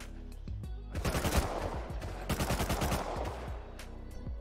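Rapid bursts of gunfire in the console edition of the survival game Rust during a duo PvP fight on PS5, loud, clustered volleys with short gaps, some single shots before and after.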